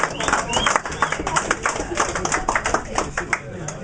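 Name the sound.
audience applause for a competition winner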